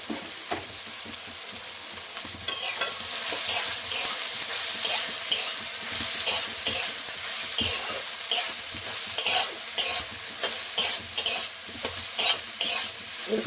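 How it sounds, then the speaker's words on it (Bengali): Soybean chunks fried in a pan give a continuous sizzle broken by regular scraping stirring strokes, rhythmic and close, with no talking. "নেড়ে নেড়ে সয়াবিনগুলো সুন্দর করে ভেজে নেবো"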